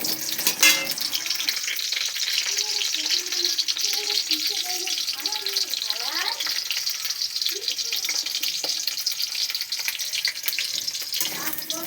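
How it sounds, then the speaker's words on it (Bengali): Potatoes frying in a pan for a chicken dish, a steady close sizzle with stirring rattles and scrapes, while someone talks over it. "আলুটা ভাজা হচ্ছে"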